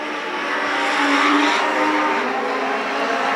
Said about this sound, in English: coming out of turn number 4 with the door open on this Legend car